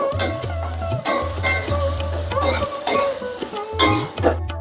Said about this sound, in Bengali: মশলা ভালো করে কষিয়ে নেব।